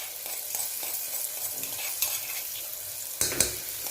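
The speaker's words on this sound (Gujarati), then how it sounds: "ચટણીને આપણે તેલની અંદર મિક્સ કરી લઈશું" Steady sizzling as chutney is stirred into hot oil for a cluster bean curry, the spoon occasionally clinking against the pan, close and continuous.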